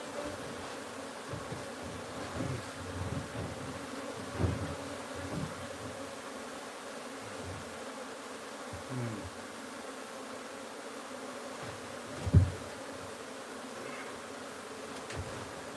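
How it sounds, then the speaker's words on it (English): A dense, steady hum of honeybees inside a wild hive, with individual buzzing bees passing close now and then over the constant drone. "I heard that hum. Wow, there's so many bees up in there."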